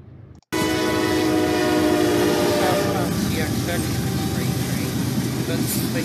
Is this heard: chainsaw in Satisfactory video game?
no